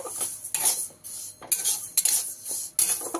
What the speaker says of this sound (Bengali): ডালটা দিয়ে লো ফ্লেমে রেখে আমি ডালটা ভেজে নেব ভালো করে।